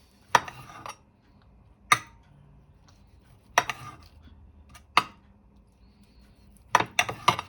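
Knife slicing whole oranges thinly on a board, sharp isolated knocks of the blade striking the board at irregular intervals, close and clear, with a quick cluster of cuts near the end and quiet between.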